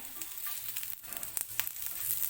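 Onion coin paratha sizzles gently in a pan over a low flame, a soft steady crackle of frying with small pops and a few stirring scrapes, quiet and close, with no voices.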